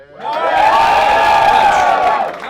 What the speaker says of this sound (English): Some cheers.